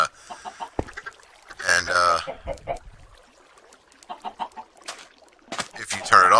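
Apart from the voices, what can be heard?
chickens clucking at an egg dispenser in a video game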